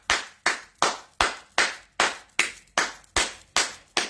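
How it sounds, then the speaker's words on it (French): A group of people claps together in a slow, even rhythm, about ten sharp claps spaced roughly half a second apart, loud and close, and no voices are heard. "Il faut applaudir pour elle."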